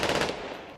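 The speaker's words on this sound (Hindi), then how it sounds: "बदले की आग में जल रहे लोगों ने जनाजे में जबरदस्त हवाई फायरिंग कर अपने इरादे भी जता दिए" Brief rapid burst of aerial gunfire fired at a funeral in Palestine, a loud rattling volley lasting under a second and trailing off.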